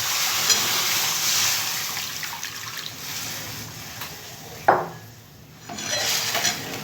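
Hot water poured into a pot of fried lentils, a steady watery rush with clinking pot sounds, then a sharp hiss and sizzle as the water hits the hot pan, followed by bubbling.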